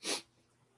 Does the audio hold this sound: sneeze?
yes